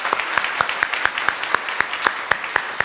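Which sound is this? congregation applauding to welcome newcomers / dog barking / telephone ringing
congregation applauding to welcome newcomers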